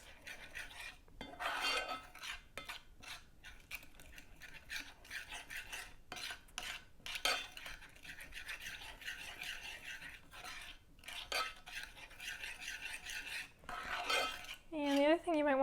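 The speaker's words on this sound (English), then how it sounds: "And give that a stir until it's all nicely combined." Orange sauce stirred in a pan, a spoon scraping and clinking against the pan in irregular strokes, fairly close, with no talk.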